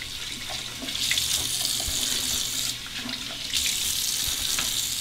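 Hot water pours steadily from a tap into a sink for a shave, a continuous hissing splash that swells slightly in volume at moments, with no one talking.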